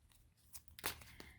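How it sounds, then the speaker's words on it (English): A deck of metaphoric reading cards is shuffled by hand in a short burst of crisp riffling and papery snaps, with a sharper slap near the middle, fairly quiet and close. "Giving it a good shuffle."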